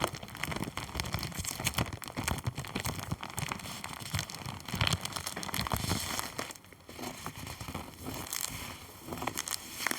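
Disposable cardboard plates are handled up close in a quiet room, giving a continuous soft crinkling and rustling with scattered crisp taps and scrapes. No one speaks.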